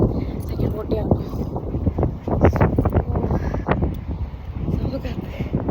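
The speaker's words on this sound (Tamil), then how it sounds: "சம காற்று." Strong wind buffets the microphone on a road in Liverpool, UK, a loud, continuous rushing roar with gusty surges while someone talks over it.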